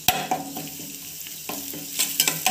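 Cumin, crushed garlic cloves, coriander powder and chilli powder frying in hot oil: a soft sizzle under repeated sharp clatters and scrapes of a spoon stirring against the pan.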